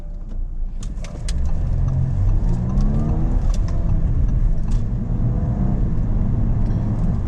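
An Audi A5 with a small four-cylinder engine pulls along a road on the way to Key West, giving a steady, loud engine drone that rises slightly in pitch as the car accelerates, heard from inside the cabin.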